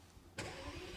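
The V12 of an armored 2023 Mercedes S680 Guard fires up with a sudden burst and settles into a smooth, muted idle, heard from close by.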